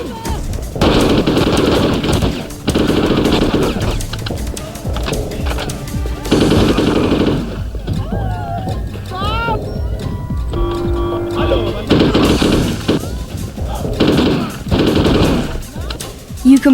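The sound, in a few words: firearms gunfire in a PlayStation 2 video game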